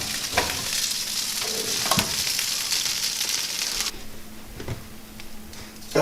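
Buffalo chicken wings in an air fryer sizzle steadily and crackle as they are flipped over, with a close hiss, occasional clunks and the frying fading somewhat partway through, without talk.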